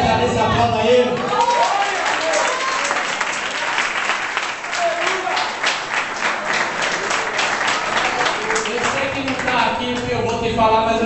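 Sustained applause from a church conference audience fills the space with dense, even clapping that swells slightly and holds steady for about eleven seconds, with a voice faintly under it.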